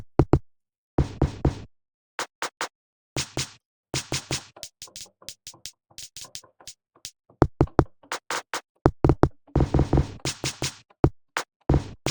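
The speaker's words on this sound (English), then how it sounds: "it turns anything you drag into it into a drum kit" Percussive drum-kit hits built from a soft snare sample, short sharp knocks and taps in an irregular, beat-like pattern with brief gaps, fairly loud and close, no voices.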